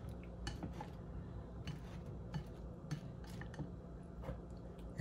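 Pork chop ingredients with whipping cream being mixed in a crockpot, heard as quiet, close clinks and scrapes of a utensil against the pot in an irregular rhythm, without speech.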